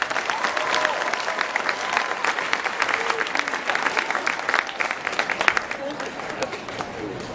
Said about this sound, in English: So let's give a big round of applause for Larry Giles.